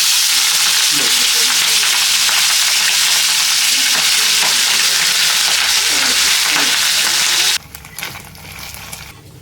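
Fish air bladders fry in hot oil with a loud, dense hiss and crackle that holds steady, then drops abruptly to a quieter bubbling with a few soft knocks.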